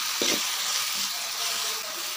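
Food frying on a dosa tawa gives a dense, bright sizzle close by, steady throughout with a brief stir or scrape near the start, no talking.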